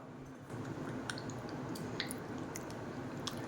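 Cornflour is stirred into grape juice to break up the lumps, giving soft, close squishing and gentle liquid churning with faint clicks against the vessel, steady and quiet, with no talking.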